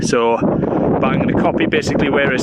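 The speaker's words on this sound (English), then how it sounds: "Excuse the wind." Wind buffets the microphone outdoors beside a workshop with a roller shutter door, a steady low rumble of gusts running under someone talking close to the mic throughout.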